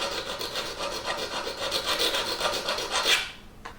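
Steady rasping strokes of a kitchen knife blade drawn along a tapered sharpening rod, close and fairly quiet, a regular back-and-forth scrape that ends abruptly.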